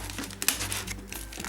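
Plastic wrap is crinkled and peeled off a Pokémon Mega Rayquaza and Hoopa Unbound collector chest, giving close, crisp crackling bursts with one sharper snap partway through.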